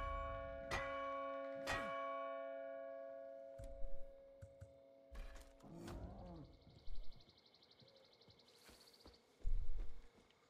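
A bell in the video game Far Cry New Dawn is struck with a baseball bat, giving sharp metallic clangs with long ringing tails, several strikes spaced across the stretch amid quieter game noises.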